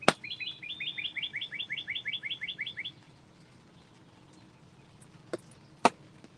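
Birds call outside a turkey blind, a rapid series of about twenty sharp chirps repeating for three seconds, followed by quiet and then two isolated sharp clicks near the end.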